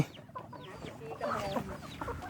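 Chickens cluck in a rural yard, a scatter of short, fairly soft clucks and squawks from several birds, some overlapping, against light background noise.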